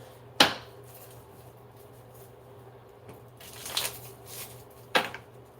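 Tarot deck being shuffled by hand, three short crisp riffles of cards separated by quiet pauses over a low steady hum.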